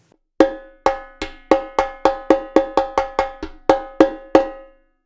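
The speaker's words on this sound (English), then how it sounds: "Rim shots are deceptively difficult to get, but once you've got it, you know what it sounds like." Repique drum rim shots in a samba pattern: about thirteen sharp, metallic cracks with short ringing tails, played close and steady with slight accents, no other sound around them.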